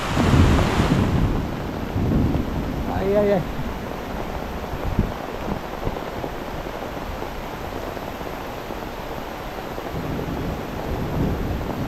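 Heavy Kerala monsoon rain pours in a dense steady roar with wind buffeting, a brief rumble of thunder early on, and a voice briefly heard near the start.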